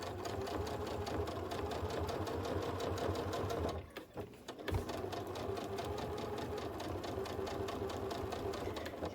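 A sewing machine stitches in the ditch in a rapid, even rhythm, pausing for a moment while the fabric is pivoted before stitching resumes at the same steady pace.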